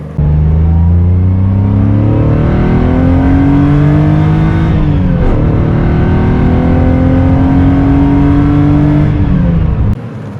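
A Porsche Carrera 3.2 flat-six engine revving up and down through loud, sustained rising and falling sweeps close by, with a brief dip midway before climbing again, alone with no talking.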